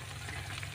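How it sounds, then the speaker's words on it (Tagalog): Pork pieces seasoned with salt and pepper and coated in flour frying in a pan, giving a steady, close, even sizzle with no talking over it. "Nag-prito ako ng baboy."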